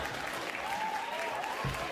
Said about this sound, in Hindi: इसमें ताली की क्या बात हुई वापस?